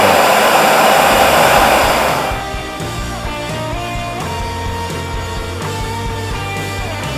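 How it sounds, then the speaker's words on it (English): A built-in vacuum kick sweeper in the kitchen plinth of a passive low-energy house roars loudly for about two seconds, then winds down to a softer steady hum with faint tones as it keeps running. "when we touch that button, it basically just vacuum anything up"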